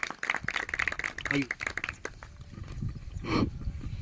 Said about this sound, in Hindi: जोरदार तालियों से स्वागत कीजिए उनका